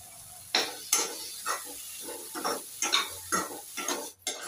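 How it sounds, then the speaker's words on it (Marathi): Paneer, peas, cloves and masala roasting in a pan, heard as a series of scraping, stirring strokes with light sizzle, each stroke a short bright burst repeating at an uneven rhythm, close and alone. "याला पण थोडा वेळ आपण भाजून घेऊ मसाला बरोबर।"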